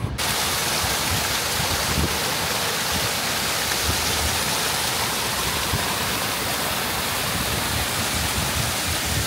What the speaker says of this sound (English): it is little waterfall